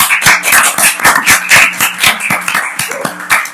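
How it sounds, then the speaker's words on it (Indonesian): A small audience applauds at a student executive board (BEM) discussion event, with fairly loud, uneven claps close by that come in distinct rhythmic bursts for a few seconds. "Tepuk tangan dulu dong jawabannya."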